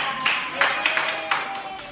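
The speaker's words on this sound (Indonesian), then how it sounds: "Beri tepuk tangan untuk Marsa." A school class claps for a student during a lesson, a short, light patter of hands with a few sharper claps standing out, fairly close and moderately loud in a room.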